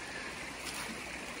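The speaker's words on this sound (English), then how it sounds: "There's water on both sides of us right now." Water rushes in a constant, soft wash on both sides of a small island campsite on the Appalachian Trail, like a stream flowing past, with no voices.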